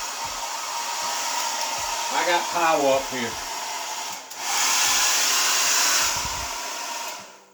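A hair dryer whooshes steadily and loudly, cuts out briefly while someone speaks, then roars again before shutting off.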